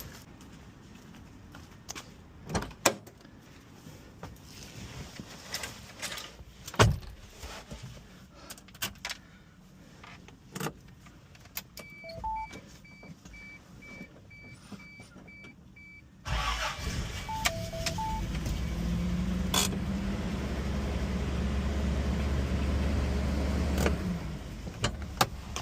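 A Toyota Land Cruiser FJ60 with the 2F engine, freshly fitted with new spark plugs and PCV valve: after clicks and footsteps, the engine cranks and catches, then settles into a steady, loud low idle that runs to the end.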